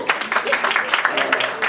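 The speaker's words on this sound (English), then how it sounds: "Give yourselves a round of applause" Attendees at the Bahamas business and investment event's closing remarks clap together in steady, close applause, lasting under two seconds.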